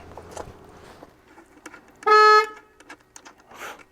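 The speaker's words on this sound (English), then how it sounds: "how'd I honk the horn?" A single loud car horn blast of about half a second sounds from a stationary car, standing out against quiet background noise with faint rustling before and after.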